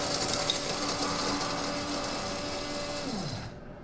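A coffee grinder on a coarse setting grinds beans with a steady whirring buzz that holds for a few seconds and then winds down to silence.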